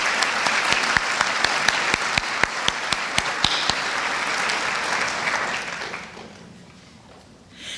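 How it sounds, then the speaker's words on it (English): An audience claps for school board members at a volunteer awards event, sustained applause with a few sharp claps standing out, then fading to quiet near the end. "A round of applause for our school board members."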